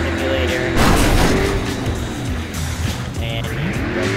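Car driven in the video game Crackdown, its engine droning loud and steady throughout with tire screeches and shifting pitch as it swerves, plus a burst of louder noise early on.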